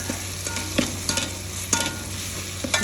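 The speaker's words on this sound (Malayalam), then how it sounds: "മുളക് ഇളക്കി നല്ലോണം ഇളക്കി" Chilli and coriander powder masala stirred in a hot pan for beef curry, a constant sizzle broken by several sharp scrapes and clinks of the spoon against the pan.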